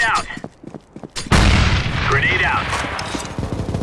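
A grenade goes off in CS:GO on a zombie survival map, de_mirage: a sudden loud boom after scattered gunshots, then a rumbling, crackling aftermath while a voice speaks in the background.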